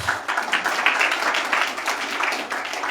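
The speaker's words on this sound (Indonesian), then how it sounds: "Tepuk tangan buat Tuhan Yesus." A church congregation applauds in a steady, moderately loud wash of clapping, sustained evenly and heard from within the room.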